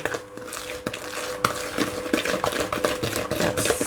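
Pear loaf cake batter being stirred in a bowl, a continuous close scraping and swishing with small clicks of the utensil against the bowl, steady throughout with no voices.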